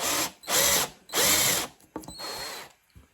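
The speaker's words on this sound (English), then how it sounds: "when there is enough depth, I'm going to take this drill, then angle it a little bit" A power drill whirs in two loud bursts, then runs in shorter, quieter spurts, biting into the wooden body of an electric guitar up close while drilling holes.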